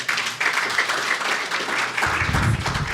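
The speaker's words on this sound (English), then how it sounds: "Shall we please give our panelists a good round of applause?" An audience at a student general council session applauds its panelists, dense sustained clapping that fills the whole stretch at an even, fairly loud level.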